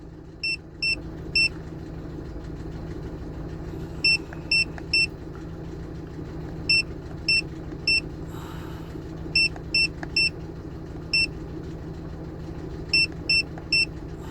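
A Mazda CX-7 2.3 turbo petrol with 170,000 km idles steadily as it warms up from a cold start, a low constant hum broken by repeated pairs of short electronic beeps.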